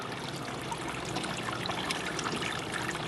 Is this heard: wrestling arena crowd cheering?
no